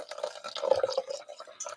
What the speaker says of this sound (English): Let's add a little bit more water.